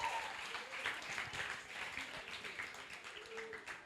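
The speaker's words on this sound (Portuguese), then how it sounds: "Palmas para a Carol!" Audience applause for a woman named Carol in a Portuguese-language talk, a steady wash of many hands clapping at fairly low level, lasting throughout.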